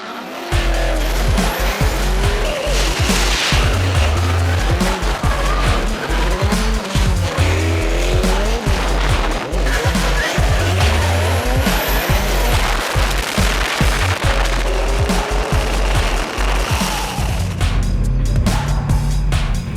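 Drift cars at Road Atlanta during a qualifying session, engines roaring with repeated tire squeals and skids as cars slide at big angles, loud and continuous with no talk.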